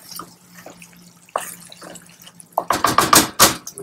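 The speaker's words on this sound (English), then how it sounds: "All right, let's get that broth in there." Broth pours into a pot for shepherd's pie, starting with a few soft splashes and drips, then a louder, close, gurgling stream.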